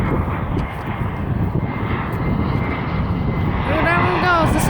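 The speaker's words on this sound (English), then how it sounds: "This is the last airplane. It's an American airplane." An American airliner landing at an airport, its engines roaring loud and steady throughout with a rising whine near the end, as people talk over it.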